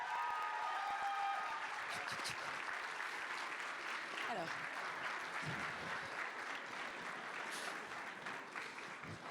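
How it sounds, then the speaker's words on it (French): A crowd at a handmade cosplay contest at a Japan convention applauds steadily and densely for over nine seconds, with a presenter's voice briefly heard at the start and light crowd noise mixed in. "Veuillez les applaudir."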